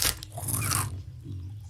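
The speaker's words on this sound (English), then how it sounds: "We have maybe some audio here of a spider monkey eating Cheetos." A spider monkey eating crunchy Flamin' Hot Cheetos, with dense close crunching and biting for about a second, then softer chewing noises, no voices.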